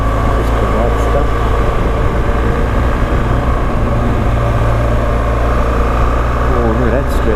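A BMW's engine drones steadily from inside the car while it drives along the Great Ocean Road near Lorne, Victoria, forming a loud, continuous low rumble with road and wind noise.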